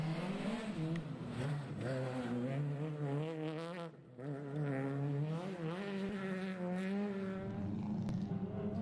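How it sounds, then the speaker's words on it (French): Peugeot 208 R2 rally car driving at a rally, its engine loud and close with rising and falling revs across gear changes and a brief dip before pulling hard again. "Fautia tente de faire bonne figure, mais sa 208 R2 est moins puissante."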